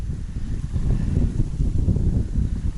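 A strong northerly wind blows at night on a riverbank, a steady low roar buffeting the microphone with no pauses and no speech.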